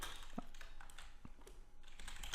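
Rapid typing on a computer keyboard while writing code, a steady stream of close, light key clicks over faint room hiss.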